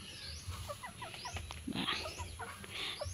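Chickens clucking in short, repeated calls over a low outdoor hum, with a few louder squawks mixed in, moderately near, in an eggplant garden.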